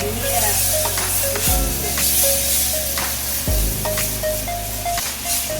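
Pansit noodles frying in a wok for a birthday meal, a steady close sizzle and hiss with repeated metallic scrapes and clanks of stirring, heard alone throughout.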